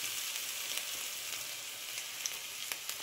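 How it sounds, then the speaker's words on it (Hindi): Garlic and ginger frying in hot oil in a pan while being stirred, a steady dense sizzle with small pops throughout, close and fairly quiet, no speech. "10 सेकेंड के करीब इसे ऐसे चलाएंगे ताकि लहसुन का कच्चापन निकल जाए।"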